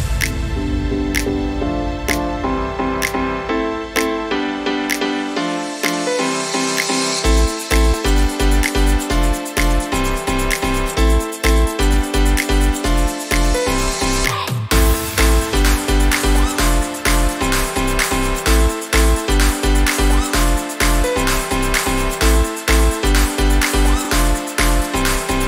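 A future house track intro built in FL Studio plays loudly, layering claps, drum fills and chopped vocal samples over a synth line, with a punchy kick pattern coming in partway and a brief break before the groove continues.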